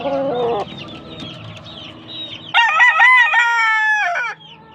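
An 11-month-old full stag gamecock crows loudly and close by in a backyard, one long harmonic crow after some clucking and other farm birds in the background.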